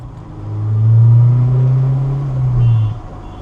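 A Honda S2000 with its interior stripped out, engine rumbling low and rising into a steady drone as it pulls away, then easing off, loud and close with no talk.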